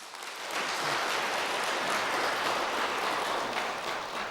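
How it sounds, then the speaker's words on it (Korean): A church congregation at a Sunday worship service applauds steadily, a dense wash of clapping that swells and holds for several seconds at moderate volume. "여러분들 따뜻한 박수 부탁드리겠습니다."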